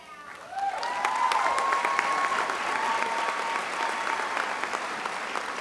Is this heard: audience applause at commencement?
yes